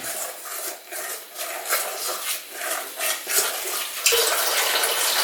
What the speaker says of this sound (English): I'm going to get the water going really slow. It's lukewarm.